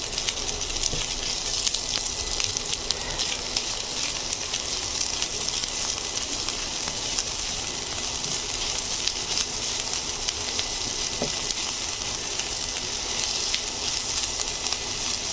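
Boneless chicken, boiled beforehand with ginger, garlic paste and salt, frying in a pan, a continuous, even, close sizzle and crackle with small pops throughout.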